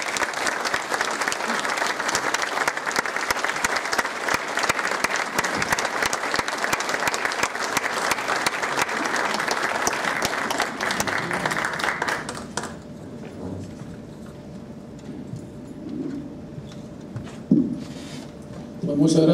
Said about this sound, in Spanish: un fuerte y cariñoso aplauso